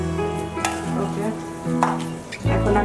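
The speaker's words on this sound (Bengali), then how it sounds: "এখন আমি একে একে এই মাছগুলো ফ্রাই করছি" Rohu fish pieces coated in garlic and chili paste fry in hot oil, a loud bright sizzle with spatula scrapes and clinks, under a steady low kitchen hum.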